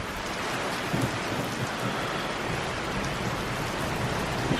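Steady heavy rain hisses over a storm, with low thunder rumbling underneath as it passes over a van being unloaded, a dense unbroken wash of sound with no talk.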